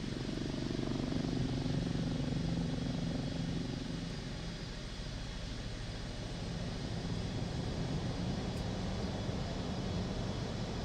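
Helicopter in Microsoft Flight Simulator 2024 settling onto a runway, a continuous close rotor and turbine drone with a throbbing low pulse that stays steady throughout, no voices.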